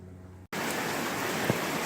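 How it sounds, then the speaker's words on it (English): Heavy rain pours down outside at a hut in the woods, a dense, steady wash of drops that cuts in abruptly and continues loud and unbroken, with no voices. "It is raining cats and dogs out here"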